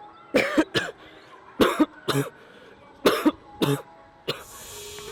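Several harsh coughs after a CrossFit Fran workout come in close clusters of two or three, separated by brief pauses of heavy breathing, fairly near and loud.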